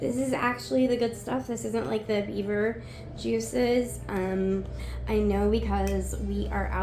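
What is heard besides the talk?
No distinct noise like a dog, phone or traffic.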